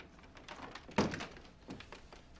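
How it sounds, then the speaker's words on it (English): An indoor door swings shut with a single dull thunk near the midpoint, preceded and followed by soft shuffling and room noise, no speech. "Shut the door."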